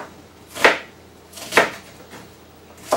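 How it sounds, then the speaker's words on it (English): A knife chopping an onion on a cutting board gives three sharp, close thwacks at uneven intervals, each ringing briefly against a quiet kitchen background. "4 or 5 times the other way, and you have half a chopped onion"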